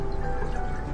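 A glass of water is poured into a pan to make sugar syrup for a kunafa dessert, a short, steady liquid splash and trickle heard up close.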